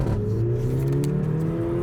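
A Mercedes A45 AMG in Sport Plus mode with the exhaust open accelerates on the road, its engine note climbing smoothly in pitch over a couple of seconds, steady and moderately loud from inside the car.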